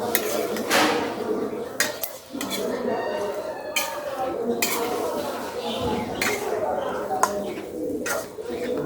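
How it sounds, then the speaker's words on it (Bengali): Food being stirred and braised in a cooking pot at home, with metal spoon clanks and scrapes against the pot, pigeons cooing nearby and a voice talking over it. "দাঁড়ান আরেকটা নাড়াচাড়া দিয়ে নেই।"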